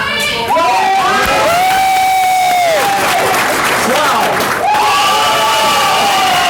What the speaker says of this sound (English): they just learned to yell loud